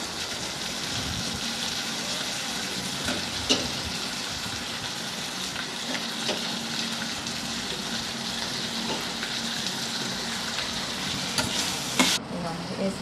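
Potato pieces fry in a pan for aloo curry and are stirred, making a continuous close sizzle with occasional scraping clinks from the stirring. No one speaks.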